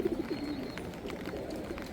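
Pigeons in a rain-soaked loft give soft, low cooing calls, a few throaty coos near the start and fainter murmurs after, over a quiet background with no speech.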